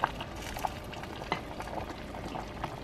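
A pot of braised pork with eggs simmers at a boil, giving a steady bubbling wash with soft pops and small splashes at intervals, fairly close and without talk.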